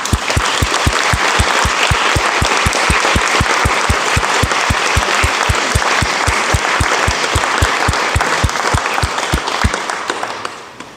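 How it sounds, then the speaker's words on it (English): An audience at a Kirtan gathering in Oxford claps for the musicians, loud, even applause with dense rhythmic claps that carries on steadily for several seconds before tapering off at the end. "Can we have a round of applause for those lovely people that were here today?"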